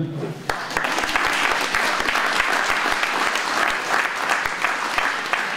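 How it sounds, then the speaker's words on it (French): An outdoor crowd at an agricultural fair in Saint-André-les-Alpes gives steady, full applause, many hands clapping together at close range with a few voices mixed in, holding evenly throughout. "On peut l'applaudir"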